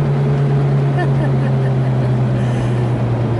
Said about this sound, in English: it's actually a bit louder than it should be because there's a big hole in the muffler